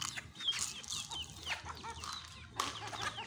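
Farm chickens and other fowls cluck and chatter close by during feeding with maize, a busy overlapping flock of short calls and squawks.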